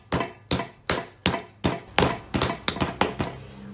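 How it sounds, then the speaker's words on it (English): Ceramic clay is pounded flat toward half an inch thick, nine or ten sharp, evenly spaced thuds in a steady rhythm, close and loud with no talk. "Now I'm pounding this down until it's about 1/2 inch."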